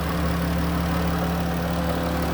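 A 2013 Dodge Caravan SE wheelchair van's 3.6-liter V6 idles smoothly and steadily up close, a constant low engine hum with no other sounds.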